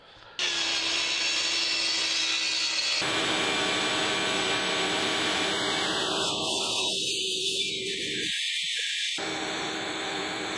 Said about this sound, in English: I'm going to cut these down to size even more so I can take them over to the crosscut sled and cut from there.